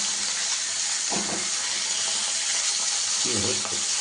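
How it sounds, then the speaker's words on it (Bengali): Hilsa fish frying in a pan give off a steady, dense sizzle throughout. A couple of soft clunks from the fish being turned over sit under it, with no voices. "এটা ইলিশ মাছ ভাজা হচ্ছে, মাছগুলোকে উল্টে দিচ্ছি"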